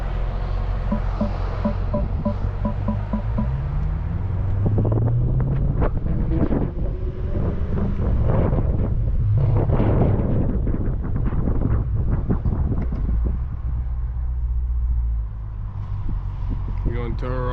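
A 700+ hp BMW M550i driving through city streets, its engine droning low and rising in pitch as it accelerates, heavy wind buffeting over it while people talk throughout.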